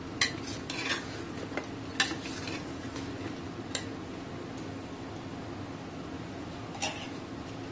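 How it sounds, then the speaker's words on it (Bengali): Mutton korma coated in a yogurt spice mix is stirred and sautéed in a pan, a steady low sizzle running throughout with scattered scrapes and clinks of a spoon against the metal. "এটাও খুব ভালো করে কষে নেবো যতক্ষণ না এর থেকে তেলটা বেরোচ্ছে"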